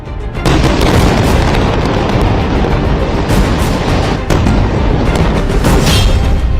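Heavy explosions from Israeli bombing of Gaza, loud dense booms and rumbling blasts that fill the whole stretch almost without pause, with sharp bursts standing out near the middle.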